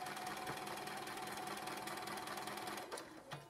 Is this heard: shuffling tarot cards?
no